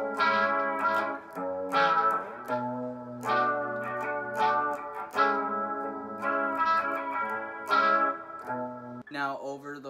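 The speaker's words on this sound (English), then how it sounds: "You want some vibrato and chorus on your signal" Shimmering guitar chords with a wavering chorus effect ring out one after another, each strummed and left to sustain, up close and clean.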